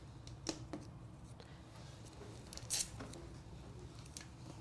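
Little pieces of painter's tape pressed down to hold a sheet in place for a Cricut 3D text project, giving soft, faint crinkles and taps with a brief louder ripping tear near the middle, no talking.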